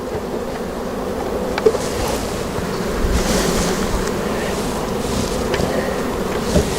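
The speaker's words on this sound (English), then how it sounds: "Bees everywhere here." Honey bees swarm around an open hive during a hive check, a dense steady buzzing drone, close and continuous, with faint handling knocks.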